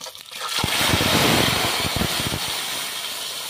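Vegetables dropped into hot oil with browned tempering spices for an elephant-foot-yam stalk dish, a loud, steady, close hiss of sizzling frying that rises quickly and holds for several seconds, with no voices.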